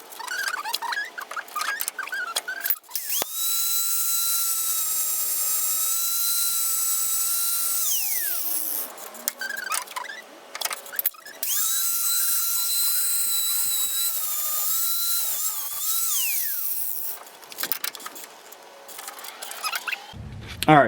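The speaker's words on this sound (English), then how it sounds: "went ahead and grinded all that material off" An angle grinder cuts material off a caliper mount while fitting Brembo brakes to a 1968 Firebird, with long sustained high whining passes interrupted by pauses, clicks and a brief spin-down between them.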